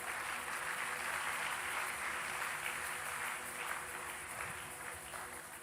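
A church congregation applauding, a sustained dense wash of clapping at moderate distance that holds steady and tapers slightly toward the end, with no voices above it.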